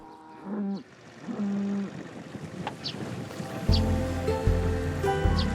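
Cattle on the open Uzemchin steppe moo several times, drawn-out calls of varying pitch near and far, with a low rumble of wind or motion growing in the second half.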